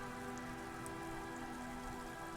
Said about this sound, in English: He raises his hand to his eyes to shield himself from the pattering rain.